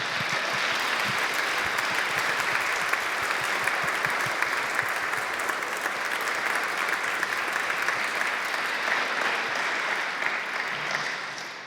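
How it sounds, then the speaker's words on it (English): Sustained, dense applause from a conference audience at a teaching and learning event, steady and full throughout with no talking, tapering slightly at the very end. "And let's give them an applause."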